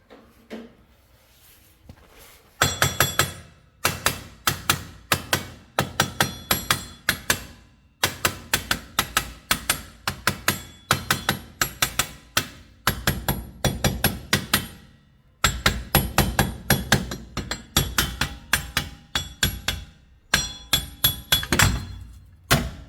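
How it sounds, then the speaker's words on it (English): Repeated sharp metallic hammer blows ring out in quick bursts, loud and close, with brief pauses between volleys of strikes, knocking out a rear wheel bearing on a 2008 Mitsubishi Lancer. "use a hammer and hammer it a bit"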